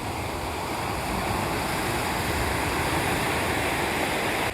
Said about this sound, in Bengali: ভালো ঢেউ রয়েছে।